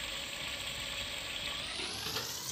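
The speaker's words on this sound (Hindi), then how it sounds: "मसाला भुन रहा है एंड मटर भी डाल दिया है" Spiced masala and green peas frying in a pan for matar pulao, heard as a faint, even hiss that holds steady throughout.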